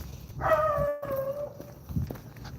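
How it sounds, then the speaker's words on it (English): A dog barks out on a downtown street in Gallup, one drawn-out, slightly howling bark at moderate distance, with a lower thump or yip after a short pause and faint street ambience around it. "Dog's trying to start beef back there."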